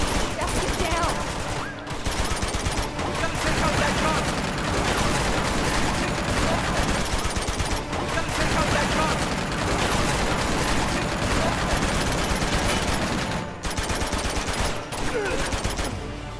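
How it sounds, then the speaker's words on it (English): Enemy gunfire in the video game Uncharted 2, a dense, continuous barrage of rapid shots and clattering mechanical noise filling nearly the whole stretch, with brief dips in between. "Dude, they're shooting at me."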